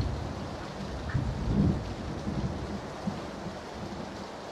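Steady heavy rain hisses with low rolling thunder rumbling beneath it on a rainy map in the game PUBG, a dense, constant wash of sound.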